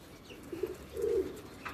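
Pigeons in a loft give two low, soft coos, the second longer and fuller, over a quiet background with no talking.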